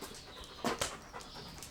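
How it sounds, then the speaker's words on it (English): A German Shepherd pants close by in two or three quick, breathy huffs over a quiet room background, with no voices. "This is our dog, Willis. German Shepherd, love him to death"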